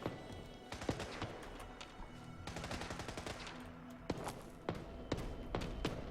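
Gunfire from gunners fighting in Fallout 4, a dense crackle of distant shots with several sharper, louder single reports standing out.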